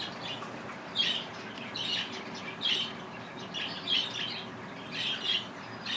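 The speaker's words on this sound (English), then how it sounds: "There's a pair of Java sparrows in here, a pair of normal Javas, and a pair of European Siskins." Small aviary birds, Java sparrows and European siskins, give short high chirps and calls in repeated bursts about once a second, moderately close over a quiet background, with no voices.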